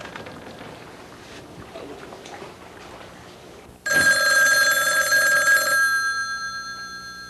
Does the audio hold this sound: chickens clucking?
no